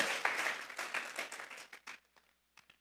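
A church congregation applauding during a Spanish-language service, a dense burst of clapping that thins out and fades to a few scattered final claps.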